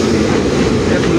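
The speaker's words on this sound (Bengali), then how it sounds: "আর রেলটা স্লোভাবে যাইতেছে, কারণ ব্রিজটার উপর দিয়ে সব রেল স্লোভাবে যায়।" A train rolls slowly over the Farakka bridge, giving a loud, steady rumble and rattle that fills the short moment with no pauses.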